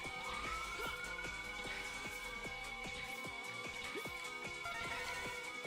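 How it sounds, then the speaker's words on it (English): A loud ambulance siren rises and wails in a Mega Man X5 stage, blended into busy game music with rapid percussive hits and steady synth tones. "that's a really loud ambulance"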